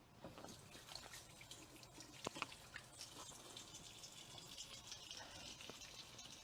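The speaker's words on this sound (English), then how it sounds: "Wash my hands one more time." A kitchen tap runs as hands are washed, a faint steady trickle and splash of water with small irregular clinks and drips, quiet and fairly close.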